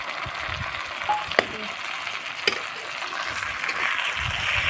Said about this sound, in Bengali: দিয়ে কিছুক্ষণ আদা রসুনের কাঁচা গন্ধ যতক্ষণ না যাচ্ছে ততক্ষণ ভেজে নেব।